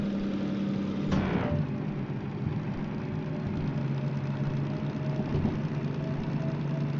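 A DM3 diesel locomotive in top gear in the Derail Valley game, a steady droning engine hum with a brief louder surge and rattle near the start, then an even mechanical rumble with no voices.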